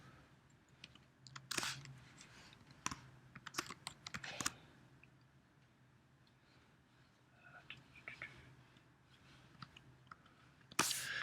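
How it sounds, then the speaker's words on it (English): Keys clatter on a computer keyboard in bursts of quick typing with pauses between, close and fairly quiet over a low steady room hum, with a few sharper isolated key strikes. "Do not type what I'm typing."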